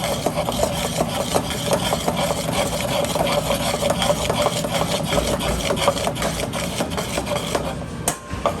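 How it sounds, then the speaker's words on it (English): A spoon or tongs stir grated cheese into fettuccine alfredo in a pan, making close, steady rubbing and scraping strokes with small clicks throughout and no talking. "So you literally just want to stir it just like that."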